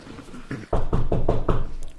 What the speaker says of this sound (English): Somebody want to get that door?